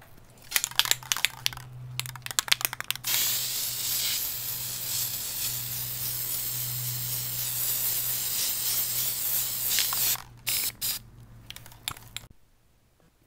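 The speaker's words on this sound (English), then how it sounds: "I'm going to take it outside and spray paint it right now" A spray paint can hisses outdoors over a stencil in one steady burst lasting about seven seconds, framed by short rustling and handling noises before and after.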